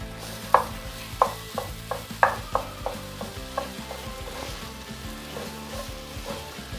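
Spice paste for pork vindaloo sizzles in a hot pan with oil, a steady frying hiss broken by sharp rhythmic clinks and scrapes of a spoon stirring it, close and moderately loud.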